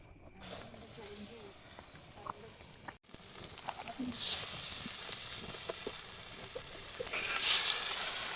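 Kerala-style fish fries on a tawa in coconut oil, with a continuous close sizzle and crackling hiss that swells toward the end, plus scattered small pops and scrapes.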